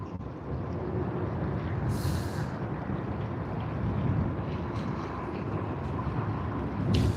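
An airliner taxis off runway 16R onto a taxiway at Sydney Airport, a steady broadband engine rumble with wind noise that holds at an even level throughout, with no voices.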